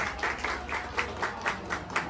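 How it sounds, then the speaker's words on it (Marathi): An audience at a Paithani prize giveaway event in Khopat, Thane West claps in a steady, even rhythm for a winner, the crowd's applause moderately loud and sustained throughout with no talking. "एकदा जोरदार टाळ्या अर्चना भोसले यांच्यासाठी झाल्या पाहिजे"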